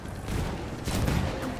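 Bursts of gunfire in the Battlefield 1 multiplayer operations mode, a dense crackling volley that swells at about one second, with a low rumble underneath.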